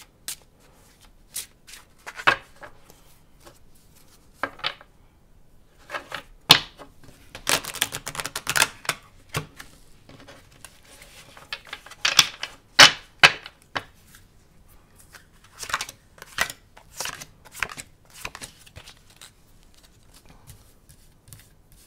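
Tarot cards are shuffled and drawn in irregular bursts of riffling and flicking, with quiet gaps between the clusters. The sound is close and dry, with no speech.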